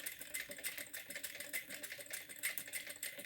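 A sewing machine stitches the zipper seam of a heart-shaped pouch, its needle clattering in a fast, steady rhythm that runs unbroken and fairly close throughout.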